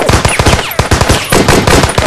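Rapid machine-gun fire from a dubbed action movie, a loud, dense burst of closely spaced shots that rattles on without pause for a couple of seconds.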